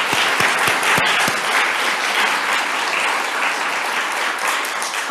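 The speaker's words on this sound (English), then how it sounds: "Another round of applause for Marie." An audience at a rule of law lecture gives Marie Henein a round of sustained applause, dense and steady clapping from a large crowd filling the room, with a few sharp claps standing out at the start.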